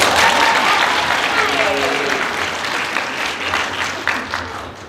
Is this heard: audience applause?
yes